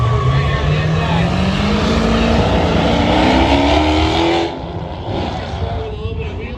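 A drag racing car launches at a spectator drag event, its loud engine note climbing steadily in pitch as it pulls away, then dropping off sharply near the end while people talk in the background.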